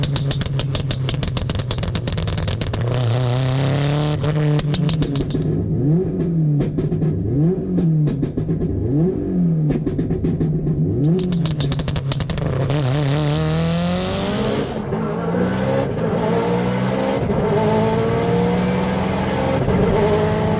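A 875 hp Subaru STI race car with a sequential gearbox revs hard and accelerates, engine pitch climbing and dropping through repeated gear shifts with sharp cuts between pulls, loud and close for about twenty seconds.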